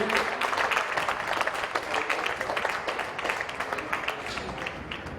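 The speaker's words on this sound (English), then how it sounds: "Let's give both these teams a round of applause" Steady applause from a crowd at a polo club match for both teams after a close Frost and Frost Cup final, dense clapping filling the whole stretch at even loudness.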